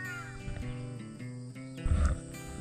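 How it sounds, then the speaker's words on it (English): Birds calling around a quiet mountain village in Yelbong, faint tonal calls repeating in short bursts against a soft background, with a low thump near the end. "hear the bird chirping"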